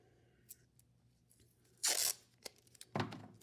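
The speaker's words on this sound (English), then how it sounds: "You're going to put a piece of tape on your lid, a piece of masking tape," Masking tape is torn by hand: a short preliminary rip, then a loud, close, crackling tear lasting about a quarter second, a few small ticks, and a second sharp tear, with no talking.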